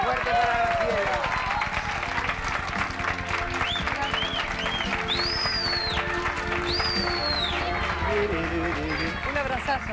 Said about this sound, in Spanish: Un aplauso fuerte para Graciela.